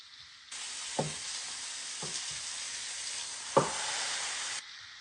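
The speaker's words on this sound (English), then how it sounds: "You hear that? Sizzle? Yeah, that's what you're looking for." Fajitas sizzle on a griddle set over two burners, a steady loud hiss broken by a few sharp clacks of utensils.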